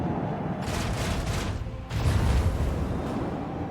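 A torpedo attack in the Rogue Trader strategy game, rendered as a rumbling, booming barrage of explosions that swells in two heavy waves over a constant low roar, loud and close with no speech.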